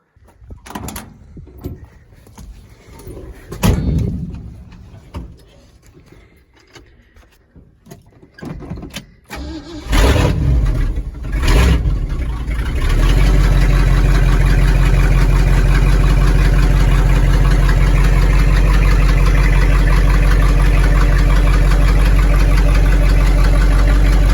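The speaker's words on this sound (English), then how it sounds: "somebody's muffler fell off and they decided, hey, this sounds really freaking cool" A 1963 Ford Falcon Sprint with its muffler gone runs on straight pipes. Scattered clunks and door-like thuds come first, then the engine cranks and catches into a loud, raw, steady idle that fills the rest of the clip.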